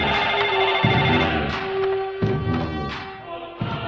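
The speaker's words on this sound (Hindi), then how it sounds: "छोटू को फोन लगाओ।" A telephone rings as a call is placed in a Hindi film scene, repeated ringtone bursts sounding in a regular rhythm with short pauses between them, loud and near, with no talking over it.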